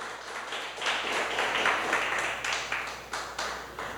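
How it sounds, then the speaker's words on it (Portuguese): A church congregation applauds loudly and steadily during a worship service, dense sustained clapping filling the room with no talk over it. "vamos aplaudir o Senhor Jesus, bem forte"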